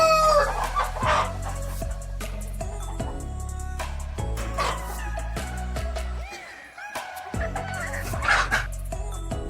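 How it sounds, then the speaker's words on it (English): Rooster crowing among clucking chickens in a local flock, several loud nearby crows overlapping steady clucks and squawks from other birds in the same coop. "This rooster is pretty freaking cool."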